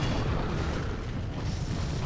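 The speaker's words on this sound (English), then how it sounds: "Explosions destroy items." Video game explosions in Gauntlet Dark Legacy form a dense, continuous rumbling blast that stays loud and unbroken for the whole two seconds.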